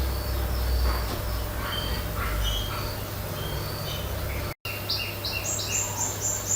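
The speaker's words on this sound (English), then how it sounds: "Some birds are singing on my yard." Birds singing in a yard, a mix of small chirps and high repeated calls at moderate distance over a steady outdoor background hum, with a short dropout midway.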